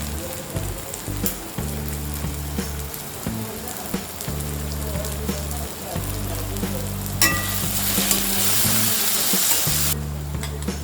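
Onions and tomatoes sizzle loudly on a hot tawa with kasuri methi, a steady close frying hiss with intermittent stirring scrapes, while a low humming tone pulses on and off beneath it.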